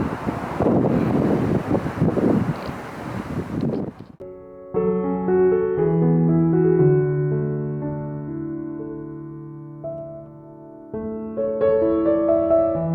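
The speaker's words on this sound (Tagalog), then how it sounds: "Mahangin, oy." Rough, buffeting wind noise roars across the microphone for about four seconds in Scarborough, then drops away as sustained tonal notes take over.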